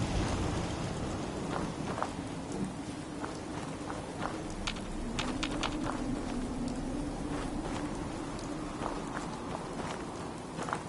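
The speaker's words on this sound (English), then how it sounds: "thinking how wonderful it'd be to get out of this infernal rain" Steady rain in the video game Fallout 4 patters in the background while scattered drips and tapping sounds land intermittently, with a low murmur underneath.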